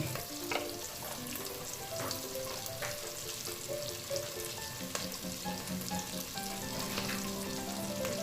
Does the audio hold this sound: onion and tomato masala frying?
yes